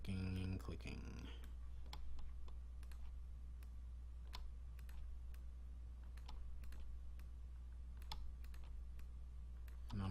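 Sharp, sparse mouse clicks come at an irregular pace while a photo is retouched in Photoshop CS6, sitting over a constant low electrical hum.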